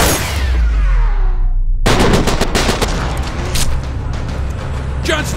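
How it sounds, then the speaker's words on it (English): A burst of rapid video game gunfire from Code of Honor 3: Desperate Measures crackles loudly after a whooshing sweep, the shots coming in quick dense bursts with a final sharp report. "Heard gunshots."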